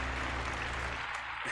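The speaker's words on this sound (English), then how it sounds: "let me give you a big round of applause here" A studio audience gives a round of applause during a paranormal call-in show, a steady wash of clapping held at an even level from start to finish, with no voices on top.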